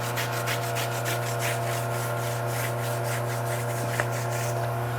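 A brush scrubs the wheels of a 2013 Ford Raptor in a wash bay, making a quiet rhythmic rubbing of repeated strokes over a steady low hum.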